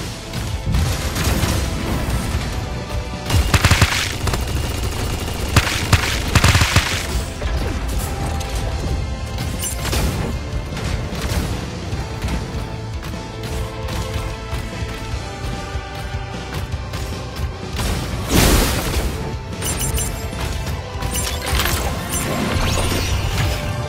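Gunfire and crashing impacts in the mech shooter game Super Mecha Champions, a dense, loud, continuous barrage of blasts and mechanical clatter during a team deathmatch.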